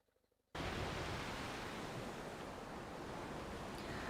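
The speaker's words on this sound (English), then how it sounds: "Oh, the sound of the ocean." Ocean waves and surf at a live waterhole camera site wash in as a steady, broad roaring rush after a brief quiet start, continuing loud and even to the end with no talk.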